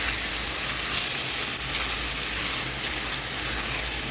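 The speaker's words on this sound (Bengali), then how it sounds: "এখন এই বাগারের মধ্যে টমেটোটা ভালো করে একটু ভেজে নেব" Tomatoes fry in tempered oil, a dense, even sizzle holding steady and fairly loud throughout with no voices.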